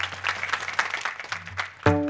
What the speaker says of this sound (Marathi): कापसे महाराजांसाठी टाळी वाजवा एकदा